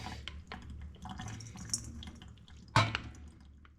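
Whey being poured off homemade mozzarella curd into a colander after microwaving, producing soft splashing and dripping over a low background hum, with one louder splash near the end.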